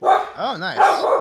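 A dog gives a short run of barks and whiny yelps close by during a tabletop game session, loud at the start and end with a softer middle, while a person speaks briefly over it.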